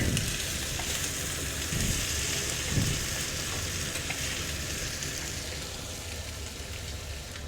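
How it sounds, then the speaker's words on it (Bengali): Small fish frying in oil on a tawa, a dense steady sizzle with soft crackling that carries evenly throughout, close up with no talk. "আমি আজকে তাওয়াতেই ভাজা করছি।"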